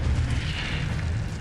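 A fire spell cast in the Hogwarts Legacy video game, a loud, dense whooshing burst that fills the short moment with a heavy low rumble and bright crackle, sounding alone.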